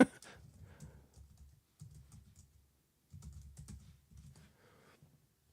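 A password being typed on a computer keyboard: quiet, close clusters of rapid keystrokes in three separate bursts with short pauses between.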